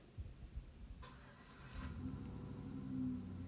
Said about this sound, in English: I'm sorry if you can hear my husband starting his truck